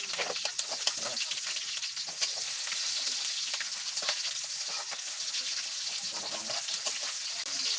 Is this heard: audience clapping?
no